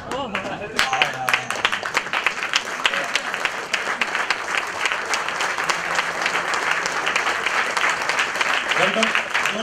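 An audience claps and cheers in loud, sustained applause that holds steady throughout, with voices mixed in beneath.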